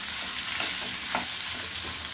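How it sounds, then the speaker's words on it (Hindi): Yogurt-coated potatoes stirred and lightly fried in a pan give a soft, steady sizzle with scraping spoon strokes, close and quiet, with no voices. "तो अच्छे से मिक्स कर दूंगी, हल्का सा भून भी लूंगी।"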